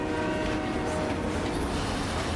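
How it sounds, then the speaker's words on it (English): A train pulls into a station in the video game Final Fantasy VII Remake, a dense continuous rumble and hiss of rolling carriages, loud and steady throughout. "Miss this train and there's no telling when the next will be."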